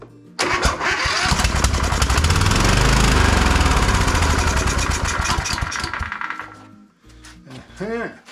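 A Kohler Courage small engine catches and runs, a loud rapid chatter that holds for several seconds, then cuts out and sputters briefly again near the end.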